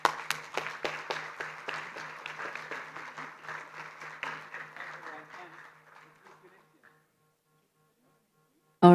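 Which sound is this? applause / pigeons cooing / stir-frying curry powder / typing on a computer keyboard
applause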